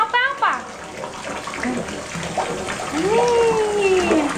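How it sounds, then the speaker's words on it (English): A little boy splashes and plays in bathwater in a home bathtub, with close splashing and sloshing throughout as a voice and adult chatter come and go over the water. "having his nightly bath"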